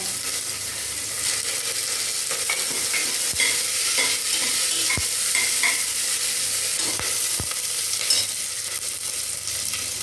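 Mustard seeds, garlic, chili and curry leaves fry in oil in a pan for idli sambar, a steady bright sizzle running throughout with faint crackles and occasional stirring clicks, no voices.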